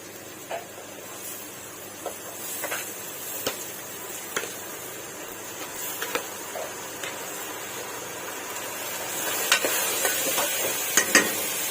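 Rice being sautéed in a pan, with a soft continuous sizzle and occasional clinks and scrapes of stirring, close and steady.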